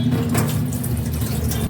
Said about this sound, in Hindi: अब मैं इसे छान लूँगी